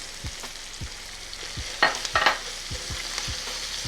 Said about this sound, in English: Give that a good mix, allow all those flavors to start to come together